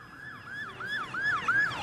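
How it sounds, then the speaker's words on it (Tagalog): An ambulance siren wails in repeated rising-and-falling sweeps in a provincial village, growing slightly louder across the short stretch with no voices. "Walang tigil ang daan ng mga ambulansya."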